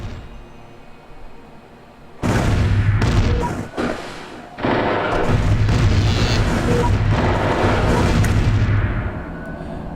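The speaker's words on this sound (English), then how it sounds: "They're bombing my planet, so there's going to be some retaliation here." Bombing explosions strike a planet in the space strategy game Distant Worlds: Shadows, with heavy booming blasts bursting in after a quiet start, a brief lull, then a sustained rumbling barrage that fades out.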